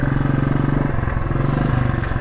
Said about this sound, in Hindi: now this is not the first time that I am riding a royal Enfield